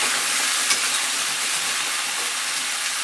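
Onions frying in a pan for a French chicken fricassée, a steady broadband sizzle that holds evenly throughout with a brief louder crackle near the start and no talk.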